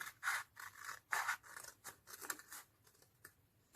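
Scissors snip through paper for a junk journal with several crisp close cuts in an uneven rhythm, followed by softer scraping and rustling, with no talking.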